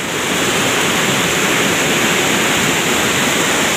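Ceracai waterfall in Aceh Selatan, a steady, loud, broadband roar of falling water that stays constant throughout, with no voices.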